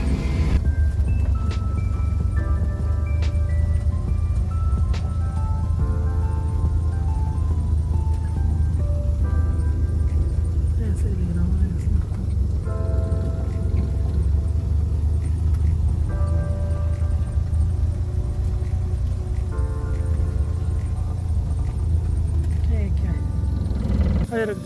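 A 20-year-old automatic van climbs a steep hill with a steady, loud low engine rumble and drone throughout, while someone talks over it.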